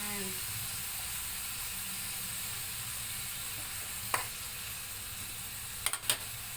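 Pork giniling sautéing in a pan gives a steady, close sizzle and hiss throughout, broken by a few brief clinks of the spatula near the end, with no talking.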